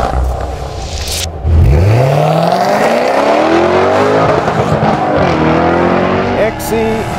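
A Jaguar XE Project 8, a 600 PS all-wheel-drive V8, roars loudly on a race track, its engine revving and climbing in pitch through the gears with a brief shift midway.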